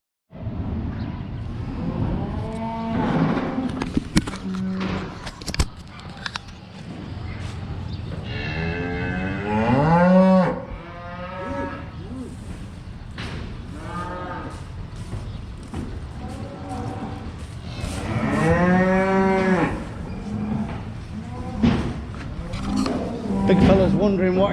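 Cows and calves moo loudly and repeatedly at close range, drawn-out calls overlapping one another above a steady rumbling background.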